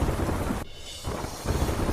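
Heavy downpour with strong wind over villages near Khambhalia in Dwarka, Gujarat, a dense roaring hiss that dips briefly and then surges back.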